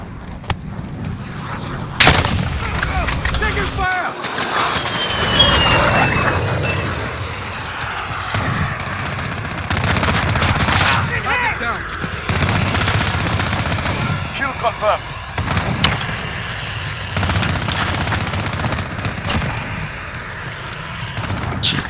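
Sustained gunfire in Call of Duty: Modern Warfare, with repeated bursts and sharp shots near and far through a busy battle soundscape, under occasional radio-style voices.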